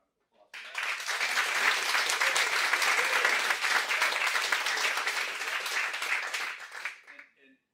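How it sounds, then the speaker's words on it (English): Audience applause at a life insurance sales summit, a dense burst of clapping that rises quickly, holds loud and steady for several seconds, then fades out. "So give yourself a round of applause for that."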